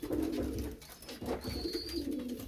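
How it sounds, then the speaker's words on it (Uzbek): Pigeons coo nearby in soft, rounded repeated calls over a low background, with a faint high whistle in the middle and no talk. "Mana kaptarlar yaqinidan ko'rib olasizlar."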